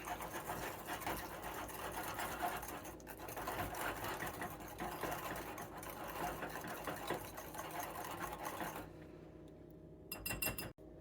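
Egg yolks and sugar are mixed for a soufflé's crème anglaise, giving a continuous mechanical whirring like a small electric mixer that runs steadily, close and fairly loud, then stops near the end with a brief final burst.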